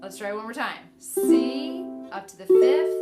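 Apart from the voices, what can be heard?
None of the usual background noises is heard.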